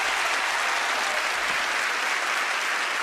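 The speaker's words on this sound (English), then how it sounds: "Give them a big round of applause." Sustained audience applause fills the whole stretch at a steady, loud level as a magic act's assistants are welcomed onstage, a dense wash of clapping with no pauses and only faint crowd murmur underneath.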